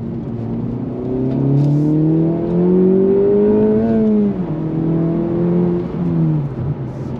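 A 2024 Acura Integra Type S engine revs while driving, its note climbing and falling smoothly in a steady, fairly loud cabin drone with no talk.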